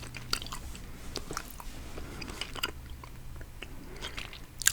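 Close, quiet chewing of a sticky, chewy coconut caramel, with repeated soft wet bites and squishes in an uneven rhythm and no talking.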